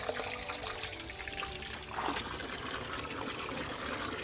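Water trickles and pours while being filled for cattle on a village farm, a steady close liquid dribble with a brief louder splash midway, heard alone without talk.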